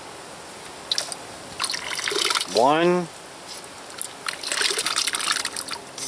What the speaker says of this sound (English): shoot some water through the straw right here, and that activates the filter